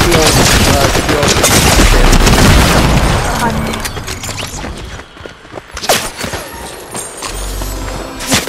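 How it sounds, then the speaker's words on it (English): Shotgun blasts and other gunfire in a Fortnite match, loud bursts crowding the first few seconds and fading, with a few later sharp shots while players talk excitedly over the action. "He got me with a shotgun."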